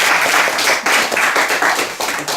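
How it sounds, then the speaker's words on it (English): Loud, close applause from an audience welcomes a speaker at a Goethe-Institut Gwangju talk, with dense clapping in slightly surging waves across the whole short stretch. "let's welcome our speaker with a big round of applause"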